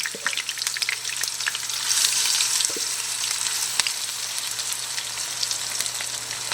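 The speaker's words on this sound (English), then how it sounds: "Okay, let that fry." Butter beans frying in a hot pan for a Southern chicken supper, a steady close crackling sizzle with occasional sharp pops and a brief stir, no voices.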